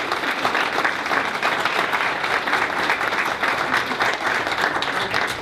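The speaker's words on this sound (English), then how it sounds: "So please give them a round of applause." An audience at a school board recognition applauds a girls' team with steady, continuous clapping that holds at an even level throughout, with a faint murmur of the crowd beneath it.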